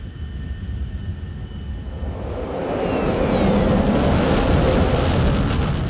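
An A-4E Skyhawk jet in a flight simulator game roars during a looping manoeuvre, its engine rumble building from a lower hiss to a loud, sustained broadband rush.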